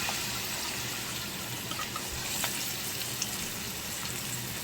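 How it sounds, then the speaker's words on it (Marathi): Onion fries in butter in a pan, giving a continuous soft sizzle with faint crackles and a few light ticks, all at an even level and with no voices. "आता बटर पटकन हे होतं, ते जळायच्या आधी आपण कांदा टाकून घेऊया"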